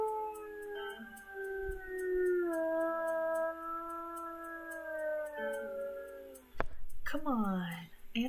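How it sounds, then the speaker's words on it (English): In the video game WolfQuest, a wolf lets out long wavering howls with rich harmonics, rising and sliding in pitch for several seconds, then a sharp knock and a rising yelping howl near the end; a voice can be heard as well. "I'm gonna get out of the territory and howl again"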